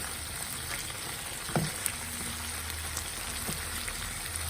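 Ridge gourd pieces fry in oil with a steady, fairly quiet sizzle and a hiss running throughout, broken by a couple of faint stirring knocks.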